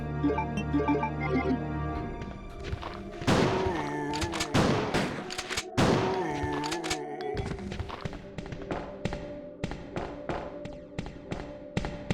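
Shotgun blasts in the original Resident Evil 2 ring out as a series of sharp, heavy booms, several spaced shots followed by quicker repeated impacts over background game music.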